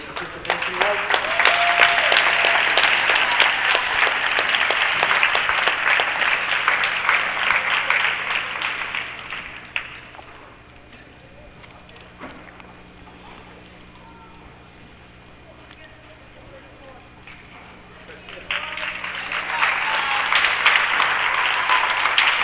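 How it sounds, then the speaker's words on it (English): A gym crowd applauds the Christ the King players and coaches at a basketball tournament: sustained loud clapping for about ten seconds, a quieter stretch with faint background sounds, then the clapping swells again near the end. "And another good round of applause here for Christ the King"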